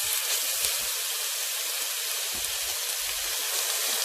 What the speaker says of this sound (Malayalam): എണ്ണ ചൂടായിട്ടുണ്ട്. നമുക്ക് സവാള ഇട്ട് കൊടുക്കാം.